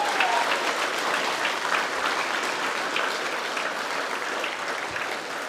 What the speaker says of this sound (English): So Raph and Eric, big round of applause.